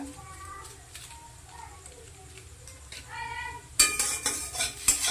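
Chow mein being stirred with Maggi masala spices in a pan: a voice talks at first, then loud clattering utensil scrapes and sizzling take over near the end.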